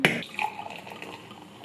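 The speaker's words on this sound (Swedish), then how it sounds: "Nu ska vi hälla upp drickan i dessa fina glas." A drink is poured into fancy glasses, with a sharp clink at the start followed by a brief close liquid trickle that fades out.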